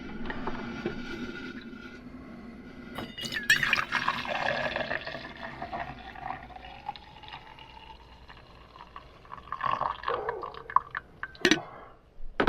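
Coffee poured into a big cup inside a camper van, a close splashing, gurgling pour with a rising tone as the cup fills, framed by clicks and clunks of the coffee maker and cup handling.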